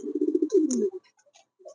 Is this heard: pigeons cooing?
yes